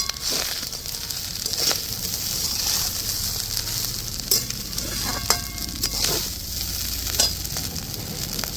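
Raisins and fried cashews being mixed into pulao in a pan, with scraping stirs and occasional clinks of the spoon over a low, steady sizzle.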